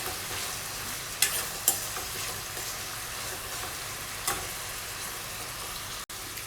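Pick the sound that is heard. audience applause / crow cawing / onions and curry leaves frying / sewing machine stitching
onions and curry leaves frying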